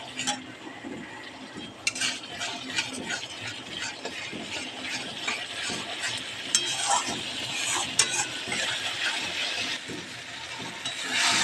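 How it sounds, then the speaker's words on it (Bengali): Spices with tomato paste, cumin powder and coriander powder are sautéed in a pan, with continuous sizzling under repeated spoon scrapes and light metallic clinks against the pan, close and busy throughout. "একটু জিরে গুঁড়ো, একটু ধনে গুঁড়ো দিয়ে এবার একটু ভালো করে কষাতে হবে।"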